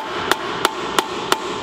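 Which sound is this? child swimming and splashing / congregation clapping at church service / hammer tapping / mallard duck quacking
hammer tapping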